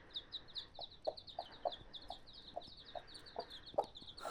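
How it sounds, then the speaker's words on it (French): Clucking from a silkie cross hen nesting in hay with newly hatched chicks, a steady run of soft, close clucks and short calls with high chick peeps repeating throughout. "cette poule qui couvait dans le foin et qui a eu des petits"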